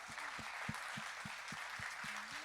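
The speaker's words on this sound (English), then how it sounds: "Let's give a huge round of applause to our amazing panel." Audience applause for a panel at the close of a school district town hall on sex education, a moderate room of clapping hands with steady overlapping claps, fairly distant and soft, with no talking over it.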